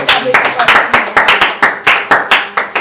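A church congregation claps rhythmically together in strong, steady bursts, loud and close, with voices mixed into the applause.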